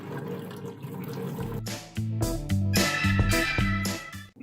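Salty liquid drawn from sliced cucumbers is poured out of a bowl into a sink, a gurgling splash that starts after a quiet moment and runs loudly for a couple of seconds before tapering.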